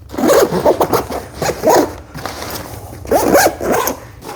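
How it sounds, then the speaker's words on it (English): A zipper is pulled shut on an Eberlestock Mission Medic backpack, a series of short rasping zip strokes close to the microphone, coming in two bursts, while someone talks briefly. "let me get the zip back up and I'll show you the back of the bag"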